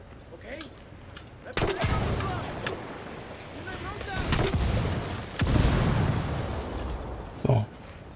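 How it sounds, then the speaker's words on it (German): Explosions in the tactical shooter Ghost Recon Wildlands, several sharp booming blasts with rumbling decay and a scatter of gunfire pops, heard under players' talk. "Ordentlich was explodiert."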